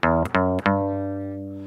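The first three notes of a minor scale are plucked on a string instrument, each rising note struck cleanly in quick succession and the last left to ring and slowly fade, close and clear with no voice.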